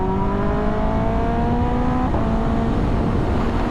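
A 2025 Kawasaki ZX10R with a BT Moto Stage 2 tune pulls hard with a rising engine whine, then a quick-shifter upshift cuts in crisply and the pitch drops and climbs again under loud wind rush.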